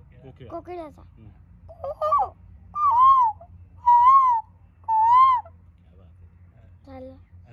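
A young voice imitates a cuckoo, rising into three clear, sustained hooting calls after some brief speech, ending with a short spoken word.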